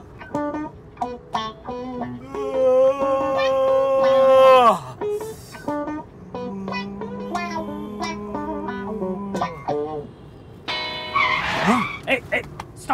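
A car skids to a stop with drawn-out tire squeals and wailing tones that rise and fall, under excited voices, with a harsh burst near the end.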